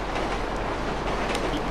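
Steady rumbling train travel in the GTA V Online video game, a continuous rail clatter heard from inside a moving car, unbroken and fairly loud throughout.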